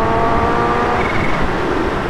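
A Kawasaki Ninja H2 superbike idles or runs nearby, a steady loud engine rumble with a thin supercharger whistle held high above it.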